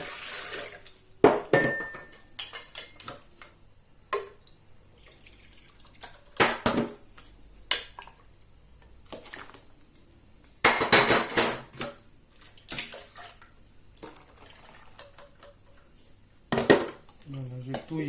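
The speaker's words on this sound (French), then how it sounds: "je touille bien" Lemonade mixture being stirred with water in a container, a few clinking, knocking bursts of utensil against the vessel with splashy liquid sounds, separated by quiet gaps.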